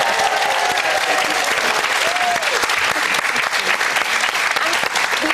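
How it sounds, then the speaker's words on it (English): A television talk-show studio audience claps loudly in a sustained, even wash to welcome new panellist Judy Finnegan, with a faint voice or whoop rising briefly above it. "we've got a very special round of applause from our audience here"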